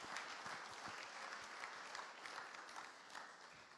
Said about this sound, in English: Perhaps a little more applause just to thank David for his contribution.